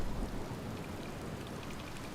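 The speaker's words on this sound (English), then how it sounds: "it's a good thing I never get bored of rain" Steady rain pours on the ocean planet Giant's Deep in the video game Outer Wilds, a dense, even hiss that fills the whole stretch with no voices.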